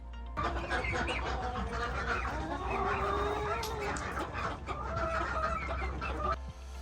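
A backyard chicken flock clucks and murmurs close by, overlapping soft calls and squawks continuing steadily throughout.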